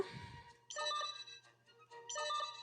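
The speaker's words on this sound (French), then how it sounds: "On dirait un bruit de téléphone." Phone-like ringing effect from the video game Yo-kai Watch, two bursts of electronic trilling ring separated by a short gap, faint, under a low steady hum, with no talk.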